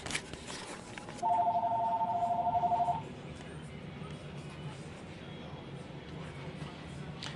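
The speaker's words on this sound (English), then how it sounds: "the phone's ringing" A telephone rings with one sustained electronic tone burst lasting under two seconds, fairly loud against quiet room background, with faint outdoor ambience around it.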